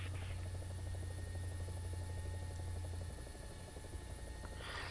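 Steady helicopter rotor drone with a low rhythmic thump, loud and continuous throughout, with faint game-like tones and a brief burst of noise near the end.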